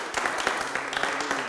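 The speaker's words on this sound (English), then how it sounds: "You both really deserve to give yourselves a round of applause" A live audience at a team keynote-building event claps in a short, dense burst, fairly close and steady, with a voice faintly mixed in.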